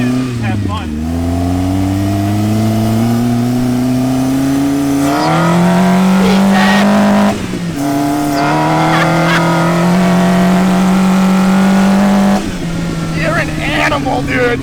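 Nissan GTR fitted with HKS parts drifting, the engine droning and revving in long rising and falling pulls close by, with voices talking over it throughout.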